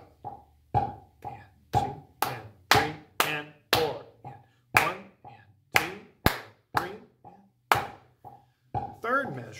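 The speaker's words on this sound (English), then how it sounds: "Let's try clapping it." Sharp hand claps tapping out a rhythm exercise from a beginner band method book, about twenty crisp claps in an uneven pattern of short and longer gaps, close and clear with a steady low hum beneath.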